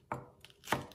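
A knife chops scallion white into short pieces on a board, two crisp, distinct chops about half a second apart, close and clear with no voices.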